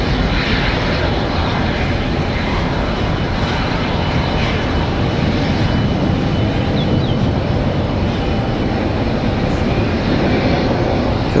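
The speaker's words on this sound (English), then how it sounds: "Goes that 777." A Boeing 777 jet at Washington Dulles International gives off a dense, loud, unbroken engine roar that stays level and close for the full span, with no voices.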